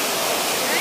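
Water of an underground waterfall in Nepal roars steadily as a dense, continuous broadband rush, close and fairly loud for the whole moment.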